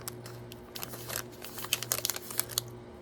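A packet of Rip Van Fruit Fun mix fruit snacks being opened and rummaged, with close, irregular crinkling and tearing bursts of plastic that grow busier toward the end, no talk.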